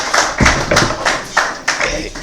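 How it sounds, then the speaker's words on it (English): A few sparse claps ring out from an audience welcoming a guest speaker at an aviation training event, irregular sharp hits spread over a couple of seconds, fairly close. "a round of applause for him."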